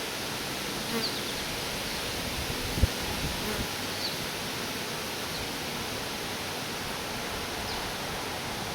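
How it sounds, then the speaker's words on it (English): A dense swarm of honeybees gathers around a queen at the Bear Behind Apiary, making a steady, continuous buzzing hum close by with no pauses. "There are so many bees gathering around her."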